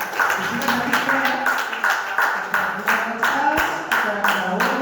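An audience claps in a regular, rhythmic pattern, loud and close, with a steady beat of group claps repeating across the whole stretch while voices hum faintly underneath.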